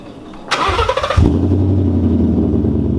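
A built Subaru WRX engine cranks briefly with a whirring starter, catches, and settles into a loud, steady idle rumble close by.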